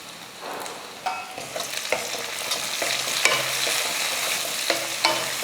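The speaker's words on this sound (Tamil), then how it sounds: "தக்காளி வதங்கிட்டு இருக்கட்டும்" Tomatoes sauté with softened onion in a pan for vathal kuzhambu, a low steady sizzle punctuated by clanks and scrapes of a ladle stirring at close range, with no voices.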